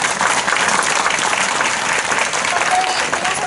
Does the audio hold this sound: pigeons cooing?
no